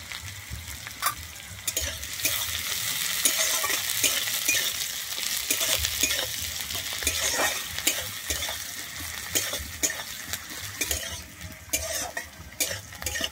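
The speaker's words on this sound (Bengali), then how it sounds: "আমি কিন্তু এখানে পেঁয়াজটা বেশি লাল করে ভাজিনি।" Chopped onions and green chillies fry in a pan for a Bengali red amaranth greens dish, sizzling steadily up close with frequent scraping and stirring clicks of a utensil against the pan, no talk.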